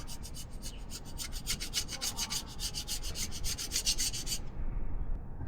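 A differential cover's mating surface being smoothed by hand with an abrasive, rapid rhythmic rasping strokes close up that stop abruptly near the end.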